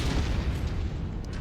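A missile explosion in the MechWarrior game, heard as a loud, continuous, deep booming rumble that fills the whole moment with heavy low-end roar and no voices.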